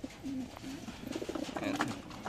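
Racing pigeons coo softly in low, rounded repeating calls close by, several overlapping coos across a short quiet stretch with faint background rustle.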